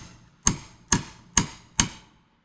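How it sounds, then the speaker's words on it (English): A hammer knocks four sharp, evenly spaced blows while pulling nails from a wooden veranda door frame, each strike ringing briefly before fading, with no voices. "so I'm taking these nails out of here"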